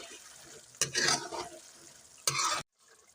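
Whole cumin seeds stirred in hot oil in a pan give sizzling frying with two loud, close scraping stirs, then the sound cuts off abruptly.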